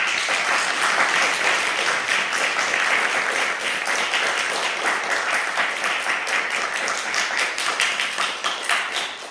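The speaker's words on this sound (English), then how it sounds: "We just have a round of applause." A college lecture audience gives a round of applause, many hands clapping steadily and fairly close, with individual claps standing out as it tapers off.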